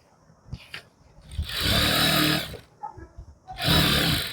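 A sewing machine stitching fabric folded over foam, running in two close, loud bursts of steady whirring with short pauses and faint handling noises between them.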